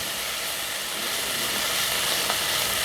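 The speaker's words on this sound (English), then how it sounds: "we just want to stand here and stir this mix, this garlic, for about 30 seconds" Garlic and onions sizzle in a pan while being stirred for an oven-baked chicken stew, a steady, dense, close frying hiss that holds evenly throughout.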